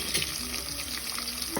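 Chopped onions fry in oil in a pan for a quick avare bele sambar, a soft, steady sizzle with faint watery crackle heard up close, no voices.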